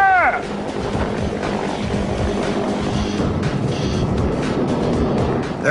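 AH-1 Cobra attack helicopter in flight, its rotor and engine giving a steady, loud, close throb from the cockpit, with a short vocal outburst at the very start.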